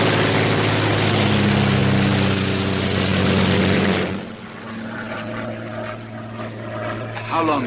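A Royal Air Force propeller plane drones loudly and steadily in flight from the 1943 film Sherlock Holmes and the Secret Weapon. The engine hum eases slightly midway, and voices speak over it.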